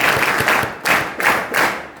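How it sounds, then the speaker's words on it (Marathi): Students clap together in a hall after a motivational talk at a college, a dense burst of applause that swells and dips in several waves over about two seconds, close and fairly loud. "परत एकदा टाळ्या वाजवा."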